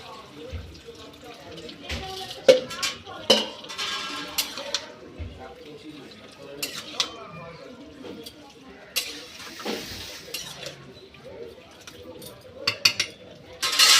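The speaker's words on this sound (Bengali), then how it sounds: "এটা আমি আবার একটু ভালো করে কষিয়ে নেব" Vegetables sauté in a pot while a spoon stirs them, with scattered scraping clinks and knocks over a soft background sizzle.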